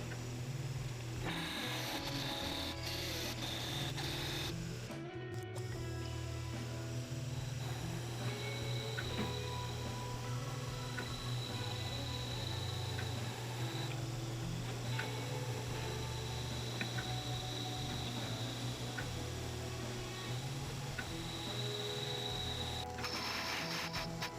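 A metal lathe turns a piece of scrap aluminum held in a 3-jaw chuck, giving a steady low motor hum with quiet ticking and mechanical rattles throughout, moderately faint and without talk.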